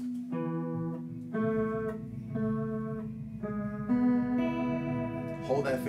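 Single electric guitar notes picked on the fourth and third strings, several short plucked tones in a steady, halting rhythm with a slightly effected tone, close and moderately loud.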